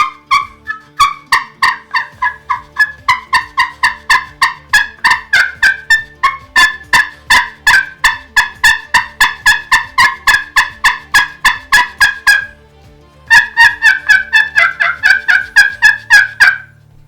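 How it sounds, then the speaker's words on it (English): A turkey pot call struck with a mushroom-tip striker gives a long run of rapid, clear yelps and clucks in steady rhythm, close and loud, with a brief pause before a faster burst near the end. "this is my first turkey pot call"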